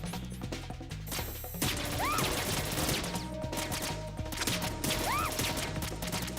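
Gunfire in Metal Gear Solid 2: Sons of Liberty, with sharp, repeated shots and impacts crackling over looping game music and sound effects, loud and busy throughout.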